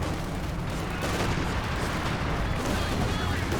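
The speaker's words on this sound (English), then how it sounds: "Sexton fire." Sexton self-propelled artillery firing in a Company of Heroes 2 battle, a dense, steady roar of booming gunfire and explosions with no clear gaps, loud and sustained throughout.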